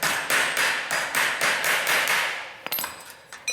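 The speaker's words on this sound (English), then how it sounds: "I'm just going to mark by tapping this in" A hammer taps a barbed fence staple into wood while building a folding garden trellis: about eight quick, evenly spaced taps close by, then a few sharper, more scattered knocks.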